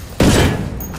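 A sudden loud burst of gunfire from a gun in the video game Ghost Recon Wildlands erupts, then trails off into a dense, decaying rumble of echo.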